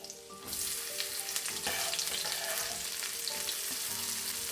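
Butter melts and sizzles in a pan for a pasta dish, a steady close frying hiss with light crackle and occasional soft stirring scrapes, and no talking.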